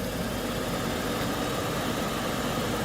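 Dreame 3i S10 Ultra robot vacuum reversing its main brush against tangled hair, a steady broadband motor and suction whir with a low rumble, continuous and even throughout.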